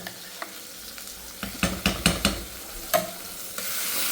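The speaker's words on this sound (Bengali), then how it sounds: "রসুন পেঁয়াজ দিয়ে সিদ্ধ করছি সিদ্ধ কইরা তেলে দিচ্ছি" Garlic and onion that have been boiled are tipped into hot oil and stirred, giving a few short sizzling bursts and scraping stirs, then a steady soft frying hiss.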